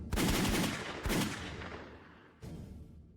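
Gunshots from a modern firearm in a dramatized martial-arts tale about a mercenary, two loud sharp blasts about a second apart followed by a third after a pause, each trailing off in a ringing echo.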